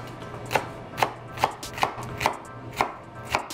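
A kitchen knife works around a fennel bulb on a cutting board, producing seven crisp, evenly spaced cutting knocks about every half second, close and clear with no talk.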